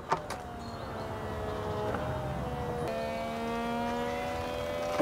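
The electric fabric soft-top mechanism of a BMW E46 convertible runs with a faint, steady motor whine that shifts pitch in stages, marked by small clicks and clunks at the start, middle and end.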